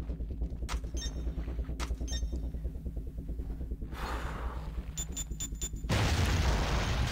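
Explosives breach a wall in the PS3 video game Fuse, a loud heavy boom arriving near the end after a stretch of busy game sounds, beeps and rumble, with no talking.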